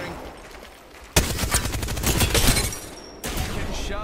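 Gunfire in the Apex Legends video game: a sudden loud burst of rapid automatic fire, a brief pause, then another sustained volley, up close.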